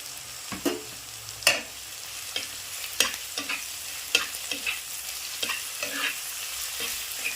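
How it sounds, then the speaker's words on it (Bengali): Onion, garlic and green chillies frying in a pan, a moderate sizzle broken by repeated scraping and clattering strokes as a spatula stirs them. "পেঁয়াজটা হালকা ভাজা হয়ে গেছে এবারে রসুনটা দিয়ে দিচ্ছি আর কাঁচা লঙ্কাগুলো"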